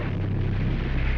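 A huge underwater blast from the Hunley's powder charge sinking the Housatonic, heard as a dense, sustained roaring rumble filling the whole short stretch at steady loudness, with no voices.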